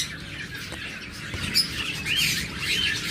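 Budgerigar parakeets of mixed colour mutations, including red-eyed lutinos, chirp and squawk in short bright bursts from a nearby cage, several birds overlapping over a soft background hiss.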